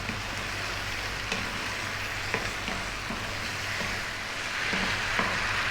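Vegetable penne with chili sizzles steadily in a hot pan while being tossed, a continuous crackling fry broken by a few soft clanks of stirring, close and moderately loud with no voices.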